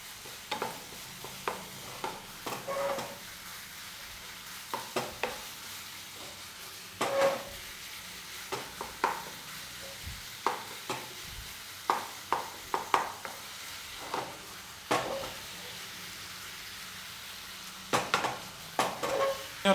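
Minced meat roasts in a pan over high flame for spaghetti meat sauce. A quiet, steady sizzle runs under intermittent scraping and stirring of a utensil against the pan.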